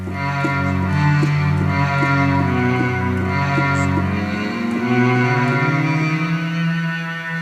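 Mellotron cello tape sound: a sustained, bowed-string tone moving through slow held notes and a gliding low line, loud and close with no talk.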